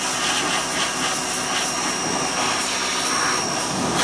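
Loud, continuous hissing spray of a high-pressure washer cleaning a Chevrolet S10's 4.3-liter engine, broadband and steady, with no talking.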